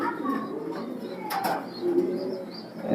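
Soft, low coos of racing pigeons repeat through the clip, fairly close, with a brief rustle or flutter in the middle.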